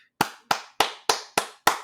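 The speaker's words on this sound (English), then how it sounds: "We always give a hand clap." Six crisp hand claps ring out alone at a steady, evenly spaced rhythm, each one loud and close with a quick decay.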